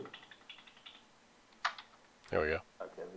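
Fast, light typing on a computer keyboard comes in short bursts of quick clicks, with someone speaking briefly between and over them.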